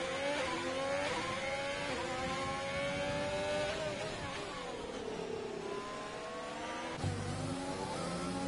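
Formula race cars in a racing video game, engines whining and shifting pitch continuously as they run side by side into a corner, with a steady, loud mechanical drone throughout.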